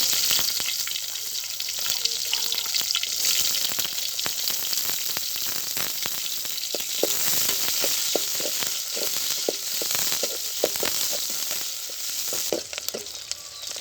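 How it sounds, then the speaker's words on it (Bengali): Chopped onion and green chili fry in hot oil for a curry, giving a continuous bright sizzle with scattered crackles and spatters and a few soft stirring clicks toward the end, close and with no talk. "তরকারি রান্না করার জন্য এখন আমি তেল দিয়ে দিচ্ছি পেঁয়াজ কুচি কাঁচামরিচ"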